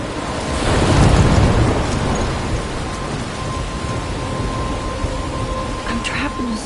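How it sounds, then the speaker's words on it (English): A video game thunderstorm with a swelling rumble of thunder over steady, hissing rain, loud at first and then settling into continuous downpour with faint scattered sounds. "I'm trapped in a storm?"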